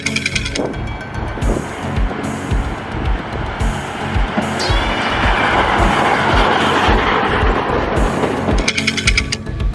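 A small toy train clatters along in a steady rhythmic clickety-clack, with a brief squeal midway and the sound growing slightly louder toward the end.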